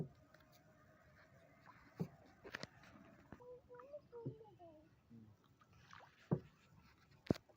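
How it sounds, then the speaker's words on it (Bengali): A boatman rows a wooden boat across a wetland, with soft water splashes and oar knocks scattered through the clip, faint and near, while people talk and chatter quietly around it. "এলো মাঝি কি সুন্দর নৌকা চালায় দেখো"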